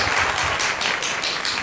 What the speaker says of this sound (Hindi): सभी बच्चे मिलकर ताली बजाते हैं